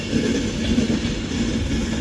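Class 390 Pendolino electric train at Manchester Piccadilly station, a steady rumbling rail noise with faint wheel clatter, continuous and fairly close over a brief moment.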